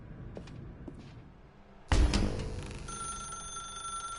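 In a video game, an old telephone bell starts ringing after a quiet stretch, a sudden loud metallic jangle that rings on with a sustained tone.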